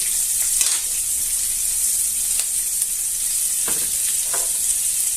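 Onion frying in hot oil alongside chorizo, a steady loud sizzle with bright hiss throughout and a few soft stirring scrapes, no voices.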